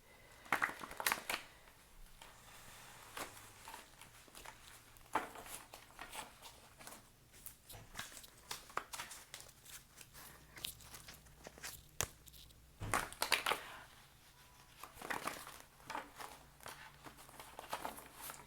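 Cards being shuffled with repeated soft riffles and slaps, in bursts, close by, with no talking.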